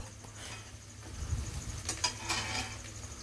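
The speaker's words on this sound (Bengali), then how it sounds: "পেঁয়াজটাকে একটু আমি লাল লাল করে ভেজে নেব" Chopped onions sizzle steadily in hot oil in a pan, with a soft continuous frying hiss and occasional light stirring scrapes, close and fairly quiet, with no talking.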